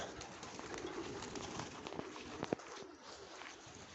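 Pigeons in an aviary loft murmur with low, continuous cooing, a busy textured layer of calls at moderate distance with one brief sharper sound near the end; no speech.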